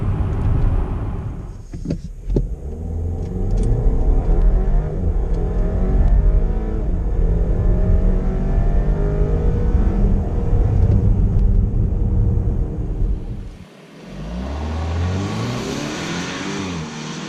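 A 2018 Audi Q5 2.0T engine revs hard and climbs steadily through the gears, loud and close, then dips briefly before surging upward again.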